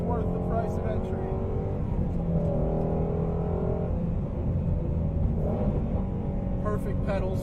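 Sports car, a road course and canyon car, its engine growling steadily from inside the cabin with gear changes and revving throughout, under a driver's talk.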